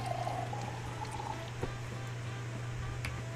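Water poured in a Korean street food stand management simulator game makes a brief, gentle trickle at the start, fading into faint background hum with a few soft clicks and no voices.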